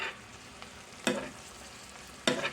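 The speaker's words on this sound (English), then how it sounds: "I'm just going to stir this around." Chopped vegetables for cornbread dressing are stirred as they fry in a cast iron pan, a soft sizzle with two sharp scrapes of the utensil about a second apart, close by, with no talking.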